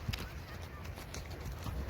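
Horse hooves clip-clop in an irregular rhythm on a trail ride through a valley in Cappadocia, Turkey, faint and close, under soft wind and background noise.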